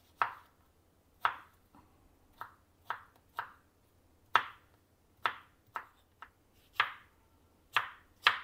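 A knife cuts strawberries into fairly large pieces on a board, giving about a dozen crisp, close chops at an uneven, unhurried pace with quiet pauses between strokes.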